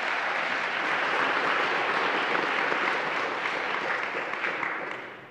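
A church congregation applauding warmly, a thick, even roar of many hands clapping that holds steady and tapers off at the end.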